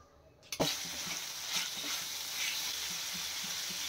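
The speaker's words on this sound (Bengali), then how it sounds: "ওই কড়াতেই আরও দু চামচ আমি ঘি দিয়ে নিচ্ছি ওতে দেবার পর একটা গোটা পেঁয়াজ ওতে দিয়ে ভাজবো" A whole onion fries in ghee in a wok, starting with a sudden hiss as it hits the hot fat, then settling into a steady, close sizzle with soft crackles. No voices.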